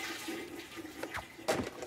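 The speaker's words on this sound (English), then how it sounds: "Got that third floor toilet to flush." A toilet on a third floor flushes in a cartoon scene, a short, fairly faint rush and gurgle of water with a few splashy bursts, no talk over it.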